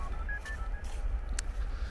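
A mobile phone rings outdoors on a riverside path near a road, a short electronic tone pattern with brief beeps over faint background rumble, no talking.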